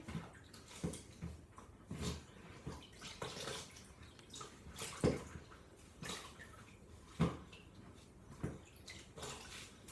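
A snail tank item rinsed under running water, soft splashing with irregular drips and bursts of water striking the object, close but faint, no voices.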